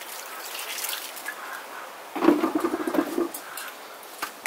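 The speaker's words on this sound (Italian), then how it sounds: "ora gli do un altro pochettino di acqua." Water poured from a container onto the soil around a newly planted walnut sapling outdoors; a short splashing gush about a second long breaks a quiet background.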